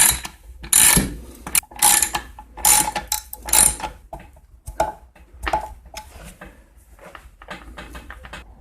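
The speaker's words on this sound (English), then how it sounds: "I'm going to go ahead and tighten up my cover bolts now" Cover bolts on a 1979 Poulan Counter-Vibe 3400 chainsaw get tightened with a ratchet, producing close bursts of quick clicking strokes that grow lighter and fainter toward the end.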